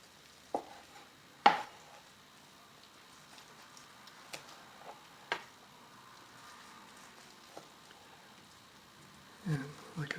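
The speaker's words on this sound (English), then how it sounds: "So I'm just going to slice this across the grain." A knife slicing tender corned beef across the grain, giving a few sparse, faint cuts and taps against a cutting board with quiet gaps between them, plus a short cluster of clatter at the end.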